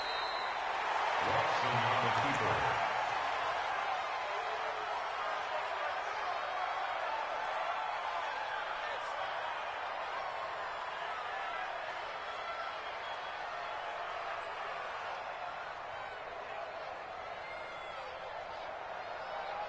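A stadium crowd in a football video game roars in a broad, steady wash that stays loud throughout, with a brief burst of louder activity near the start and commentary voices faintly under the noise.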